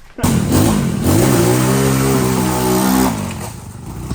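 A four-wheeler ATV engine revs hard, its pitch climbing and holding in a loud, close buzzing drone for a few seconds before easing off, heard alone without talk.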